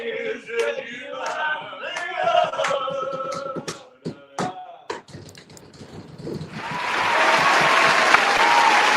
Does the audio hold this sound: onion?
no